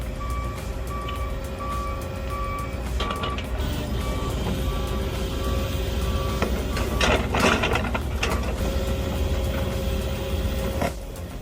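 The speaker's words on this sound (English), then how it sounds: "This is when stump grinders come into action." A stump grinder tears tree stumps out of the ground during forest work, its heavy engine droning steadily throughout, with a repeating beep and louder crunching bursts building toward the end.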